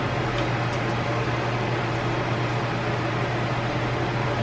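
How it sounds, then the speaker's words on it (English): A microwave vent fan runs over a cast iron cooking setup, giving a steady, even broadband whoosh with a low hum that holds constant throughout with no talking. "my apologies for leaving the microwave vent going"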